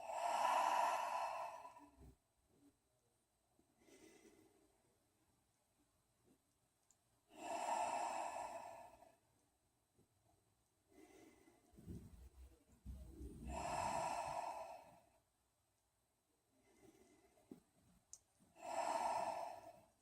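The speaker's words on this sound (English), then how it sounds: "Ujjayi breathing in through the nose," Ujjayi breathing during restorative yoga: slow, deep breaths drawn in through the nose and released through the mouth as long, airy, audible exhalations. They come one after another with quiet pauses between them, close and unaccompanied by talk.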